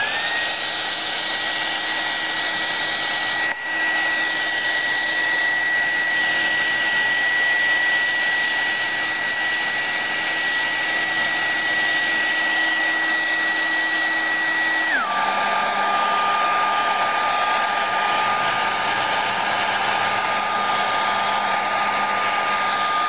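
A hair dryer runs steadily for the whole stretch, drying paint on a cardinal relief artwork, a loud continuous whir that drops to a lower speed partway through, with a brief bump early on.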